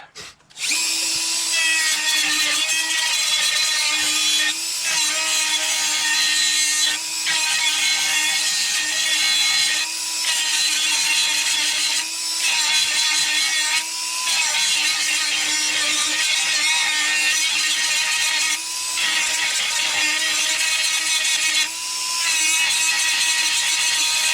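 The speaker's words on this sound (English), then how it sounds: "These four crosses are the other sides of these nails. What I want to do is grind it down." A power grinder works continuously and loudly close by, cutting down protruding nail ends in wood, its high-pitched whine steady with brief dips in pressure and no talk.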